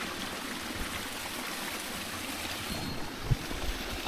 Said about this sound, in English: This is a little river.